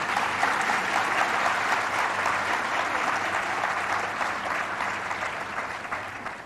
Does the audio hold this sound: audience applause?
yes